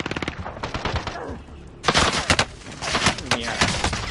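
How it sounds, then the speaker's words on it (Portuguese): Gunfire in a shooter video game comes in loud, rapid bursts of sharp shots, with a pause in the middle before a second heavy volley. A voice is heard briefly. "Tô tomando o tiro."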